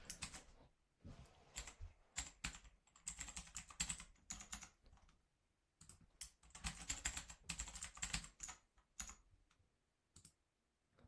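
A password being typed on a computer keyboard, with bursts of quick, close key clicks separated by short pauses and no talking.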